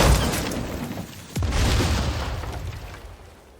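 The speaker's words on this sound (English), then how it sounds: "the TNT barrel explodes, and it literally looks like a firework" A TNT barrel explodes in LEGO Fortnite, a booming explosion with a crackling tail, followed by a descending whistle and a second deep blast that slowly fades away.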